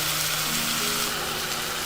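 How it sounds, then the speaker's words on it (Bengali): Chicken browning in a pan over a high gas flame gives a steady, dense sizzle with faint bubbling, continuous and close throughout with no voices. "গ্যাসের ফ্লেমটা হাইতে রেখে 5 মিনিটের জন্য চিকেনটাকে খুব ভালো রকম একটু কষিয়ে নেব"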